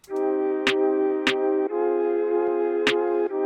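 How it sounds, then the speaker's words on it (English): Sharp snare hits crack over a sustained, droning synth chord, three separate strikes spaced unevenly, loud and close with no talking. "Let's start adding in drums, starting with the snare."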